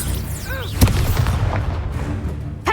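Confringo fire spell explosion in Hogwarts Legacy, a short whooshing cast followed by a sharp boom and rumbling tail, close and loud, with another hit at the end.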